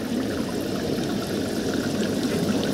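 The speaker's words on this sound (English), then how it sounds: "And you just drain off the water." Steady watery rush of water pouring and draining off a gold pan, continuous and close, with no voices.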